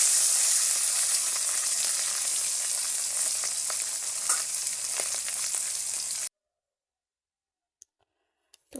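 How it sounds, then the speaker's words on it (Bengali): Fish pieces being turned and browned in hot oil make a steady crackling sizzle with scattered sharp pops for about six seconds, then stop abruptly, leaving near silence broken by a few isolated clicks. "মাছগুলোকে তেলের মধ্যে দিয়ে ভালো করে ভেজে নিচ্ছি।"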